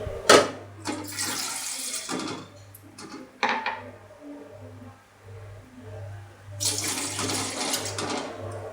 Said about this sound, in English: fill the pan with 2 glasses of water